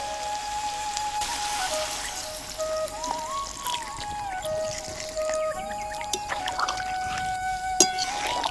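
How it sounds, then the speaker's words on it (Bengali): Water poured into a pan of jackfruit curry, a steady close splashing pour that runs throughout with bubbling and a sharp clink near the end. "এবারে পরিমাণ মতো জল দিয়ে দেবো।"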